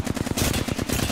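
Rapid automatic gunfire from a weapon in Apex Legends, a dense burst of close, loud shots with a steady rattling rhythm and no talk over it.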